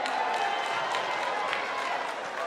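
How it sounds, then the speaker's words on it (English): Audience applause filling a room at a comedy show, steady dense clapping with crowd noise throughout, fairly loud and continuous. "fellas, round of applause"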